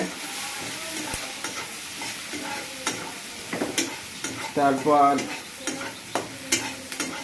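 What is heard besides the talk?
onions being stirred and fried in a pan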